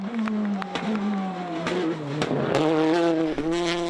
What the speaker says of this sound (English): the distinct sound of the Peugeot 208 T16 R5, Jose Suarez is having problems with his power, so you can hear that as he comes past our camera position